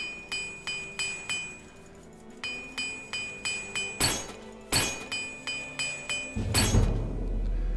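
Repair hammers in a video game clink on equipment in a quick, regular series of metallic taps, followed by a few louder, sharper strikes near the end.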